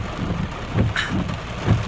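Heavy rain pours down loudly and steadily, with a few stronger gusts of drumming rising and falling across the clip.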